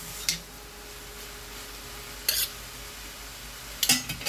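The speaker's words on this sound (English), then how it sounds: "now I will nicely mix this whole thing" A few sharp metallic clinks of a spatula against a pan as spring roll filling is stirred in a home kitchen, three brief scattered taps over a quiet steady background hum.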